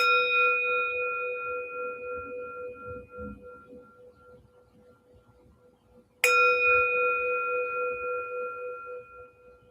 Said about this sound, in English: notice how you absorb, how you feel the sound of the bell.